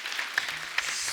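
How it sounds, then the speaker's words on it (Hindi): Faint audience applause on a TV comedy talk show, soft scattered clapping at low level with a couple of sharper claps. "जोरदार ताली"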